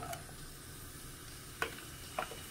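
Onion sizzling in hot dendê palm oil for bobó de camarão gives a faint steady hiss, broken by two brief sharp clacks from a utensil near the end.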